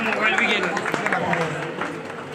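Scattered applause from an audience at a Buddhist women's forum's joint Jayanti celebration in Hindi, a broad noisy wash of claps that carries on steadily throughout, with crowd chatter and talk mixed in.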